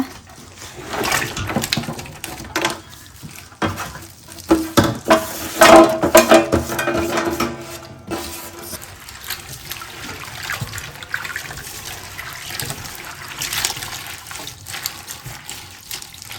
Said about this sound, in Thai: พี่ไซก็จะเอาหน่อไม้ ลงไปแช่นะคะ